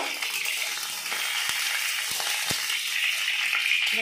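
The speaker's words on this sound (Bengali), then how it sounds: "এবার পটলগুলো আমি ভেজে নেব।" Pieces of pointed gourd (potol) fry in oil over medium heat, giving a steady, even sizzling hiss with a few soft clicks and pops from the pan.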